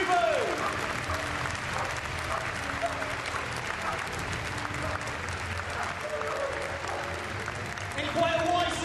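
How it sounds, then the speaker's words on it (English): Sustained crowd applause at an RAF police dog display, steady and moderately distant across the whole stretch, with a public-address voice and faint whistle-like tones breaking through now and then. "Big round of applause, ladies and gentlemen, for Corporal Demo Hartford and Air Dog Kubo."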